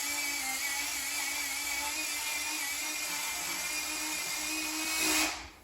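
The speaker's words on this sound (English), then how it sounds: "So we've just used mini chainsaw." A mini chainsaw cuts a white pine bonsai branch up close, giving a continuous high whining buzz with a steady tone that winds down sharply at the end.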